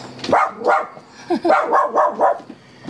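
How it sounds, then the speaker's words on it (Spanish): Several dogs bark in quick bursts close by outside a home at night, a run of sharp, repeated barks with brief gaps between them. "los perritos."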